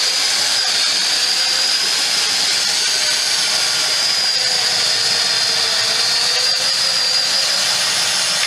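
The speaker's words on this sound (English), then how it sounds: "I can tell I made a cut because I could feel the resistance on the drill" A high, steady whine of an electric drill on a homemade rifling machine, cutting rifling in a Kolt380 gun barrel, running continuously and loud, with a faint grinding undertone and no talking.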